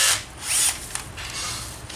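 An electric drill with an 8.5 mm bit whines in short bursts, spinning up and easing off twice, close and fairly loud, then settling into a quieter grinding hum.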